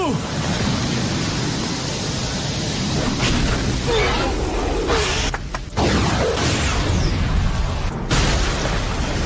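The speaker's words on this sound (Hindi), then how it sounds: "Fire style fireball jutsu." An anime Fire Style Fireball Jutsu blast from a Naruto Shippuden fight roars as a loud, sustained rushing burst of flame, dense and noisy throughout with brief dips, under an energetic voice.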